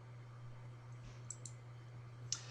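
A computer mouse clicks on an OK button, a few small, sharp clicks over a low steady hum, close and faint with no talk.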